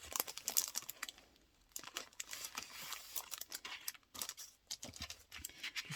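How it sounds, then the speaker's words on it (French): A sheet of coloured paper slides beneath scrapbooking materials while a card is being made, with close, quiet, irregular crinkles and soft rustling scrapes; no one speaks. "Je vais passer une feuille de couleur dessous."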